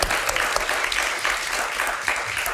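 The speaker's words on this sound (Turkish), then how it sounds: "Buse'yi bir alkışlayalım." A studio audience at a Turkish late-night talk show bursts into steady, dense applause for a guest named Buse, a continuous wash of many hands clapping with no break across the short stretch.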